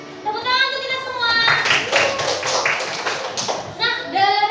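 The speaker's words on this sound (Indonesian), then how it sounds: "Tepuk tangan untuk kita semua." Classroom group applause breaks out briefly in the middle while children sing and talk before and after, the clapping dense and close for about two seconds.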